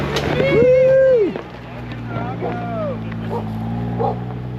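Dogs bark and whimper at an off-road expo, a clear yelping bark near the start followed by fainter yips over a steady background hum and crowd noise.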